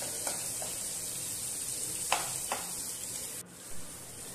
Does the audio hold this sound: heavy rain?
no